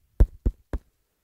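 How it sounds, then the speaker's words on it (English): Three dull, close knocks on a door fall in an even rhythm, each short and thudding, followed by silence. "I knocked on it again."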